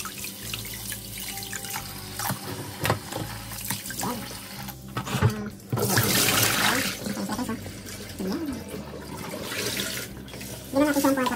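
Tap water runs steadily into a sink, splashing and gurgling close by for the whole stretch, with brief voices and handling noises mixed in.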